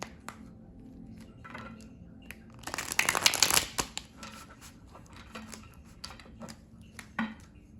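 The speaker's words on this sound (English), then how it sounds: "let me know if you like watching me shuffle" Soft riffling and tapping of tarot cards being shuffled, with a louder flurry midway, close up and otherwise quiet.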